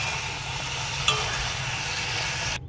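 Bhature frying in hot oil for chole bhature, a steady close sizzle with a soft clink near the middle, cutting off abruptly at the end.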